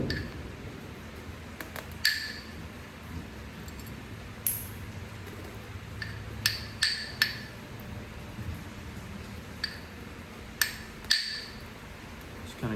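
Coral being flintknapped into a dagger gives sparse, sharp clinking taps scattered irregularly, about a dozen across the span, close by and fairly quiet over soft background noise.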